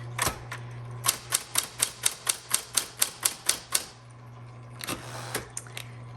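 Keys struck on a 1960s Smith Corona Electra 110 electric typewriter, a rapid even run of about a dozen sharp clacks over a steady motor hum, a brief pause, then a few more strikes.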